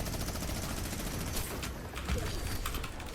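Sustained rapid gunfire from a Fortnite match, dense overlapping bursts and volleys crackling continuously at steady loudness throughout, with no voices heard.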